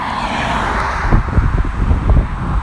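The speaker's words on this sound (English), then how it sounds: "We got one more car coming" A car passes on a road outside, a brief whoosh over steady wind buffeting the microphone, fairly loud and close, with no voices.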